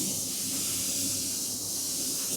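A spray gun applying coating to a beaded media wall gives a steady, loud, close hiss of atomized spray, holding even for the whole stretch before cutting off at the end.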